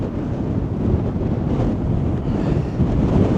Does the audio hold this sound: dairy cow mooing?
no